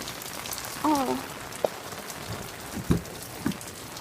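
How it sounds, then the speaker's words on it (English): Heavy Southern California rain pours outdoors in a steady, dense hiss. A few short vocal sounds and a brief sharper knock stand out over it. "It's pouring."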